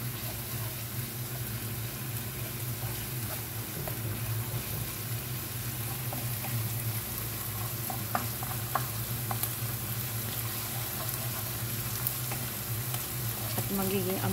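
Garlic sautéing in a pan for a tomato spaghetti sauce, a steady close sizzle and frying crackle running evenly throughout with occasional stirring clicks, no talking.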